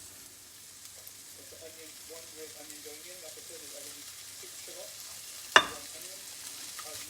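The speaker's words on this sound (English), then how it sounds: "now we want to add our onion to those mustard seeds" Sliced red onion goes into a pan with mustard seeds and gives a quiet sizzle and frying crackle. A sharp clink from a utensil sounds partway through, and a faint voice is heard in the background.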